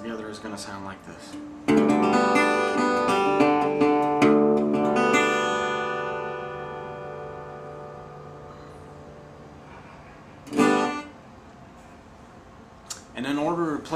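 An acoustic guitar in open G tuning, low string dropped to D, is strummed for a Delta blues lesson, with a big ringing chord left to decay slowly, a few softer strums and brief scratchy noises around it.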